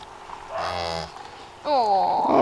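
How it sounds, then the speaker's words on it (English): A cow moos twice at close range, the first low call rising and breaking off, the second louder and more drawn out after a short pause. "Oh, no baby cow."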